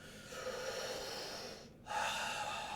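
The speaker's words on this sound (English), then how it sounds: "breathing in deeply." Deep breaths during a yoga session: a long, steady airy exhale, a brief silent pause, then a strong, close inhale that continues to the end.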